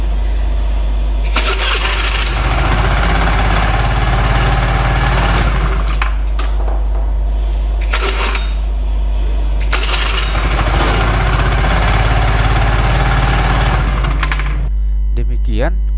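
Electric starter motor cranking an engine on a training stand, heard as several short whirring bursts over a constant low hum, loud and close, with someone talking in between.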